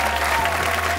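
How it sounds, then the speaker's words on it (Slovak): A television game show studio audience breaks into steady applause, a dense wash of clapping hands that stays even and close for its short length. "Ale keď chcete, tak vám vieme dať aj veľký potlesk ako veľkým hviezdám."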